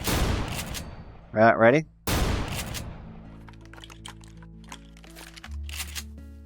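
An M4 rifle in the Techguns Minecraft mod fires a short burst of sharp game gunfire, followed by quieter mechanical reload clicks and clacks, with a person speaking briefly near the start.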